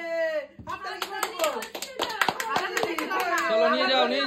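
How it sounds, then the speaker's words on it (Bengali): Family members clap hands during a bottle flip game at home, a run of sharp, uneven claps close by after a brief pause, with children's voices and chatter mixed in throughout. "থালাটা রেখে হাতে আর মাথায় তালি দিচ্ছে।"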